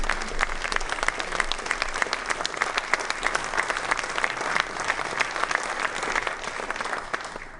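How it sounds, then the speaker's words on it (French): Sustained audience applause filling a hall after a talk at an assembly on the future of work, dense steady clapping with no voices over it. "je vous remercie beaucoup de ces applaudissements"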